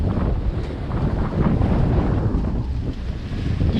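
Sailboat underway at about six knots between Tarrafal and Preguiça off São Nicolau, with steady loud wind buffeting the microphone over a continuous rush of waves and water along the hull.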